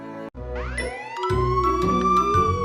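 A cartoonish ambulance siren effect with rising swoops and chiming tones over a droning low bed, short and bright with a brief dropout near the start.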